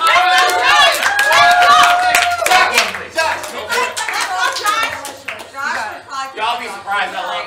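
A game show audience claps rapidly and cheers for contestants eating jelly beans, loud dense applause and whoops that thin into scattered claps as voices chatter over it.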